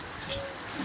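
Heavy rain pouring steadily in Jhelum, a dense, even hiss of drops hitting surfaces that fills the short moment without pause.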